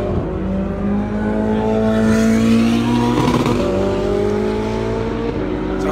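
A Ferrari race car engine revs loud and close, its harmonic tones climbing and dipping steadily through the whole stretch with no break.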